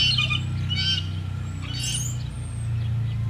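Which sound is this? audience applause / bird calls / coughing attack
bird calls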